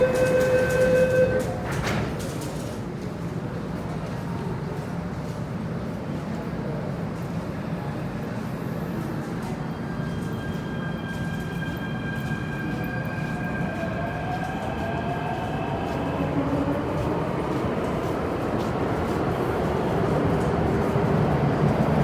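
An MTR metro train rumbles at the Quarry Bay Station platform, a steady low roar with rising and falling tonal whines as it moves, heard alone at moderate loudness after a short chime at the start.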